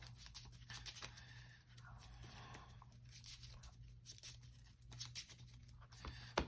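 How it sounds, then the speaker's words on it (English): Soft, close papery riffling and flicking of Yu-Gi-Oh trading cards being shuffled, continuing in bursts throughout. "So I'm going to give my deck a good shuffle."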